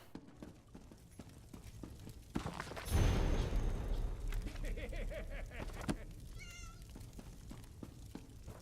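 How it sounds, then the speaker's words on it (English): A cat meows in an Elder Scrolls game played on Wine, set against steady clip-clop hoofbeats and game ambience, with a short rising meow near the end. "Hi, kitty cat."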